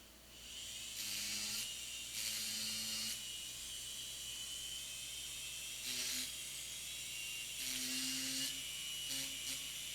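A coarse Cosmedent FlexiDisc on a dental handpiece polishes composite on a front tooth in several short, high whining bursts of a second or so, separated by pauses over a quiet background hiss.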